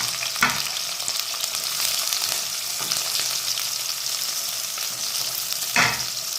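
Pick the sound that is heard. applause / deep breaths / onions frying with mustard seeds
onions frying with mustard seeds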